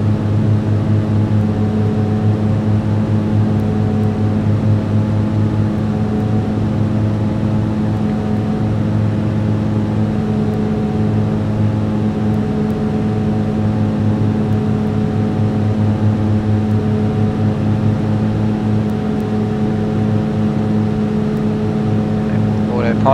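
A Piper PA-31 Navajo twin-engine aircraft cruises with propellers set to 2500 RPM, a loud, steady droning hum with strong harmonic tones filling the cabin, unchanging throughout.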